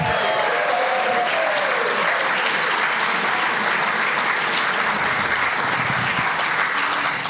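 An audience at a folk benefit concert applauds warmly, a dense, sustained clapping that fills the room from start to finish.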